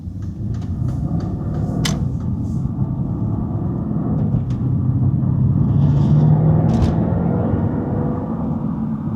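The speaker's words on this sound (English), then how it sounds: "It's a little bit of road noise." A 2013 Mercedes-Benz SL 63 AMG cruising on a rough road gives a steady low rumble of road and tyre noise inside the cabin, with a few faint knocks and rattles over it.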